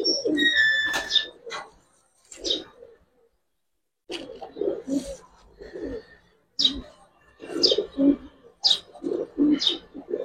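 Pigeons at a farm that sells Giribaz and coloured breeds coo in repeated low bursts, each followed by short high chirps. The calls come close and fairly loud, with short pauses between them.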